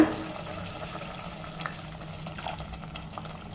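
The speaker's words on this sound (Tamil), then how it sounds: "இப்போ தண்ணி சேர்த்துக்கலாங்க" Water pours steadily into a pan of curry after a brief sauté, a continuous splashing gush with faint clinks, close by and moderately loud.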